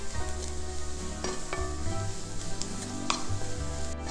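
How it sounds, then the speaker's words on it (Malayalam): Masala sizzles and fries steadily in a pan for a Kerala fish curry with coconut milk, a continuous close crackling hiss with faint stirring scrapes throughout. "തീ ഒന്ന് കൂട്ടി ഒന്ന് വഴറ്റിയെടുക്കാം"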